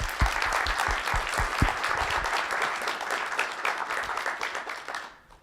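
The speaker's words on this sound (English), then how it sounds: "let's just take a moment to applaud" Audience applause at a rare-disease community program, a dense steady patter of many hands clapping that fills the room and tapers away near the end.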